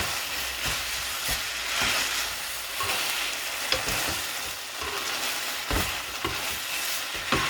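Spaghetti carbonara is stirred in a pan, with a continuous soft sizzle and scraping, plus occasional louder knocks of the utensil against the pan.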